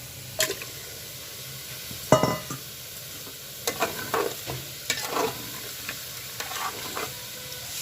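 About 700 grams of washed mutton goes into a hot pressure cooker for khichda. It sizzles with a broad hiss, and scraping and stirring clatters come through in bursts, with no talking.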